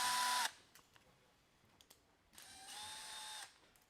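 A handheld power drill whirs in two short bursts, about half a second and then a second long, separated by quiet clicks and handling noises while a robot is assembled.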